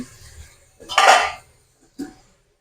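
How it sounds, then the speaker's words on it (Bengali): A metal lid lifted off a cooking pot of bean-leaf (shim) paturi with mustard-poppy paste: a loud central clatter, then a short clink about a second later, with no one talking. "এবার ঢাকাটা খুলে দেখে নেব"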